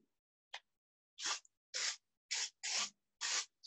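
Short bursts of a hand spray bottle misting water onto a watercolour painting of a surfer, about six close hissing puffs in an irregular rhythm with brief silences between them.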